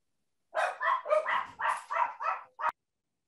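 A dog barks in a quick run of about eight sharp barks spread over two seconds, fairly close and clear, with the last bark clipped short, then silence.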